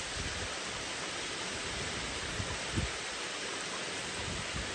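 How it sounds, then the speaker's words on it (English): Steady rain falls outdoors in a soft, even hiss with a few faint low thumps, an unbroken shower under dark afternoon clouds. "we have had rain on and off this afternoon for quite a few hours"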